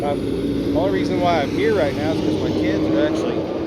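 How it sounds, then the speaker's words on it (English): Steady road traffic rumbles past outdoors at a busy roadside, a constant low engine and tyre drone with a vehicle swelling by, under someone talking close up throughout. "sorry about the traffic"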